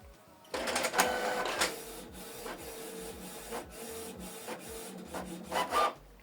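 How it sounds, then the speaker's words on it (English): A Canon Pixma TS3751i inkjet printer runs off a copy on A4 paper, its print head shuttling back and forth in repeated mechanical bursts with clacks and whirs, close and alone. "Select number of copies, then select print."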